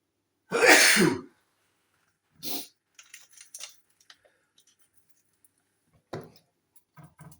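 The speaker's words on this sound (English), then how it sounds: "Oh, sneeze." One loud, abrupt sneeze close by in a kitchen where dried chilli seeds are being prepared, followed by quiet shuffling and small scattered sounds.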